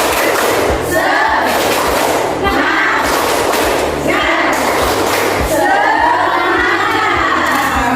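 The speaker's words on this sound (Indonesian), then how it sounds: "Kita bertepuk semangat dulu ya" A classroom group does a spirit clap together in a quick, steady rhythm, loud and close, with several bursts separated by brief pauses and voices mixed in.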